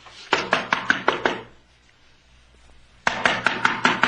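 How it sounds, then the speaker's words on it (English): Knocking on a house door in a radio drama: two bursts of about six sharp, evenly spaced raps each, separated by a short silence, close and distinct. "Here, let me knock."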